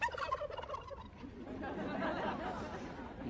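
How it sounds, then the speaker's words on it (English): Turkeys gobble at a presidential Thanksgiving pardon, a quick rattling gobble up front followed by a murmuring crowd and light chatter filling the rest. "You picked two great turkeys."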